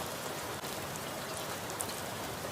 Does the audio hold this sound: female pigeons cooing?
no